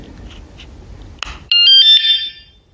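A sharp click, then a wireless motorcycle alarm blares in a loud, piercing, steady high-pitched electronic tone for about a second before cutting off.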